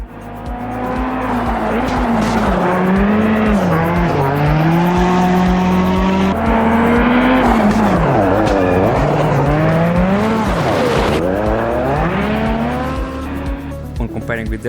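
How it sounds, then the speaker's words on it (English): A Citroen DS3 rally car in Automobilista 2 holds a loud, continuous engine note that rises and falls with wavering tire squeal as it slides across loose ground. "I'm not using the handbrake and the car is sliding like on ice"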